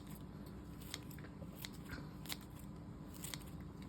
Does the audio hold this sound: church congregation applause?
no